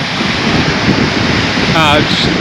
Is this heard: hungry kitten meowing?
no